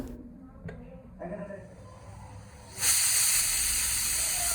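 Pressure cooker cooking beef, quiet at first with clinks and a voice talking, then a loud, sustained steam hiss bursts in partway through and holds steadily to the end.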